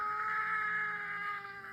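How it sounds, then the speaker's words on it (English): A pug lets out a sustained, high, wailing scream that holds steadily, loud and close, with a slightly wavering human-like tone. "This is a screaming pug."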